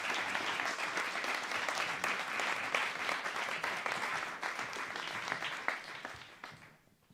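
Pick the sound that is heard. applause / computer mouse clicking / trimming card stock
applause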